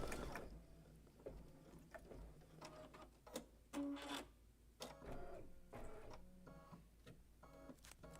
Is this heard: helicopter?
no